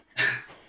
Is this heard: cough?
yes